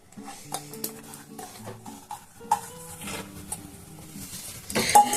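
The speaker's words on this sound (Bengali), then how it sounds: "দেখুন প্রথমে আমি ডালগুলো দিয়ে দেবো" Soaked chana dal lentils tipped into a cooking pot, giving a clattering run of metallic clinks, scrapes and rattles, irregular and close, ending in a louder burst of rattling, with no voices.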